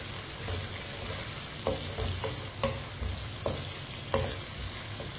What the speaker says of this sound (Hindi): अब भिंडी को 3-4 मिनट के लिए फ्राई कर लेंगे।